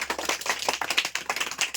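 Young children in a classroom clap enthusiastically after a correct quiz answer, a close, rapid burst of uneven hand claps with no talking over it.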